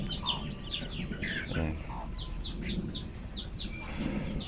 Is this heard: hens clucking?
yes